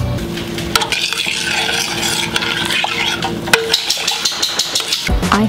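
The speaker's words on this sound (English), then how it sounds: "Next, I add oat milk, or your preference of milk, and the spices, and I stir it up a bit." Oat milk and chai masala spices are stirred in a pot, with a spoon scraping and clinking against the pan in a steady rhythm under a soft simmering hiss, close and fairly loud, with no talking.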